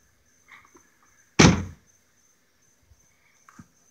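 A Ford F250 truck door swings shut with a single sharp thud and rattle, followed by quiet small clicks and a faint steady tone in the background, with no voices.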